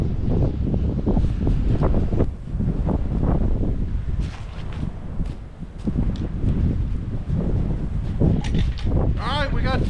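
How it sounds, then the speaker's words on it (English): Cold wind gusting outdoors while a car frame gets its wheels fitted, a loud continuous rumble of buffeting across the mic with brief lulls. "It's getting cold, the wind's blowing"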